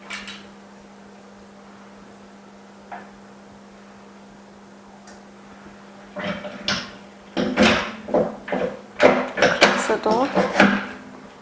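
An OCA cold press machine's locking door, fastened without screws, is pulled shut with a series of quick mechanical clacks and clicks. A steady machine hum runs throughout, and the handling noises grow loud over the last five seconds.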